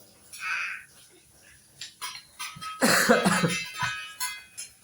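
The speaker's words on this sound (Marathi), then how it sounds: "मित्रांनो, मला पण खोकला आलाय." A person coughs indoors at home at night, a few short harsh bursts close by, with small household clatter and faint sounds before.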